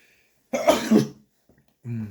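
Two quick, harsh coughs close by, followed a moment later by a short rough throat sound.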